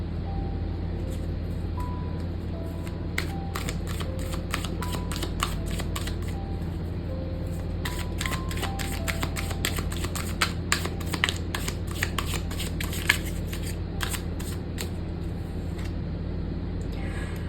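Tarot cards being shuffled by hand to draw a supporting card, with bursts of crisp riffling and flicking over a steady low hum and no voices.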